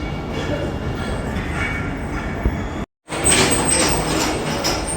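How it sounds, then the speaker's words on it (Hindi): The Pakistan Express 46 Down passenger train rumbles along from Rawalpindi toward Karachi, a loud steady rolling roar with faint rattles and a brief dropout midway, heard alone. "खूबसूरत सफ़र के लिए पाकिस्तान एक्सप्रेस 46 डाउन रावलपिंडी से"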